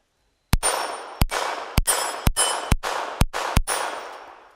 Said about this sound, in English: So load this magazine up, do a little bit more shooting.